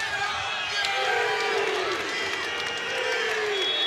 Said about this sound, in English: Crowd calling for the 3